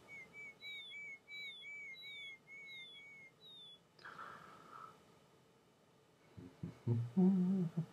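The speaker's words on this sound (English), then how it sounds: "There's like birds chirping and stuff like that, which I think is really nice." Clear high whistled bird chirps repeat in a steady pattern over quiet ambience in the video game Betrayal at Krondor, then fade out as some rustling and soft thuds follow.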